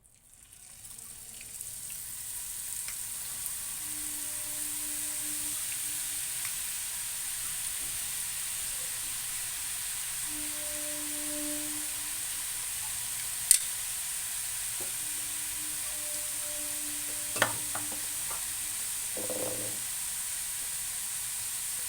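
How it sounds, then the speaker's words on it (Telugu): Ribbon jantikalu, a rice flour snack, deep-frying in hot oil, a steady close sizzle and bubbling hiss that holds for over twenty seconds, with a couple of brief clinks and no talk. "ఆయిల్ వేడైంది. మనం ఇప్పుడు జంతికలు వేసుకుందాము."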